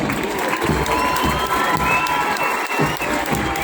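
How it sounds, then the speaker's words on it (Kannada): Applause from a large crowd at a police parade ceremony, dense continuous clapping mixed with cheering and children shouting, loud and close. "ಯಾಕೋ ಏನೋ ಚಪ್ಪಾಳೆಯ ಸದ್ದು ಕೇಳಿಸ್ತಾ ಇದೆ"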